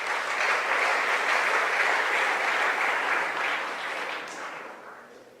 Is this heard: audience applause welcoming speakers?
yes